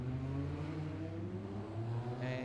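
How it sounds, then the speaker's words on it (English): Supercars idling and pulling away behind a safety car on a race circuit, a steady layered engine drone with low rumbling tones and slowly rising pitch, continuous throughout. "they will now get off the line behind the safety car"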